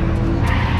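Under a second of loud, close drift-car noise, on 235/45 R17 Federal tyres: a rough engine drone with a scrubbing, squealing tyre edge.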